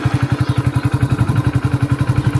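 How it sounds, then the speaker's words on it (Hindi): A motorcycle engine runs close by with a steady, fast rhythmic putter, loud and even throughout with no voices. "जैसे हम गाड़ी को स्टार्ट करेंगे"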